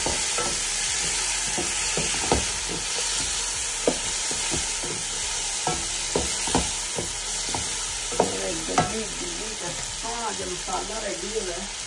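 Tomatoes dropped into frying masala for aloo gosht salan, stirred with repeated scraping strokes over a steady close sizzle, with faint voice in the background.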